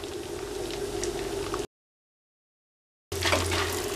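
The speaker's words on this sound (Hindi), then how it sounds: "काजू और बादाम थोड़ा लाइट गोल्डन हो तब तक फ्राई करेंगे।" Cashews, almonds and dry coconut slices fry in hot oil in a pan for a roasted poha chivda snack, a steady bubbling sizzle that cuts out briefly, then returns a little louder.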